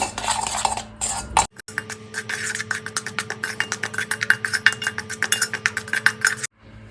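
A utensil scrapes and clinks rhythmically against a bowl while chaat masala and garam masala are mixed into paneer for pakoda. The clicks come in quick, steady strokes, close and fairly loud, with no talking.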